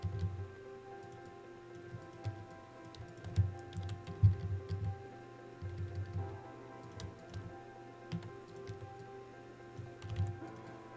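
Rapid computer mouse clicks sound while items are dragged along an editing timeline, a close, irregular run of light taps and short bursts over a quiet hum.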